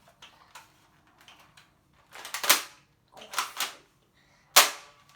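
A Nerf double-barrel toy shotgun fires in three sharp, snappy bursts close by, each a quick plasticky crack with a short spring rattle, preceded by a few faint mechanical clicks.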